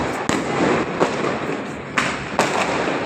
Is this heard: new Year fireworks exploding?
yes